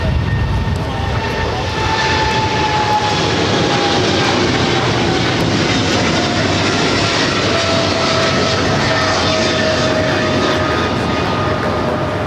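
A seven-year-old Korean Air Cargo Boeing 777 freighter jet roars loudly and steadily at Los Angeles airport, its engine noise a constant close rush with a slowly falling whine.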